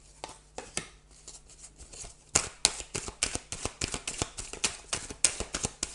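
Tarot cards handled and shuffled at close range, a dense run of crisp flicks and riffling snaps that grows busier and louder after a quieter start, with no talking.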